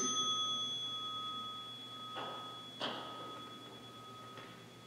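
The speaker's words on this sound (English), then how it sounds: "Everybody quiets down when the bell rings." A bell is struck once in a quiet room, leaving a clear, bright tone that lingers and slowly fades, with faint knocks nearby and no talking.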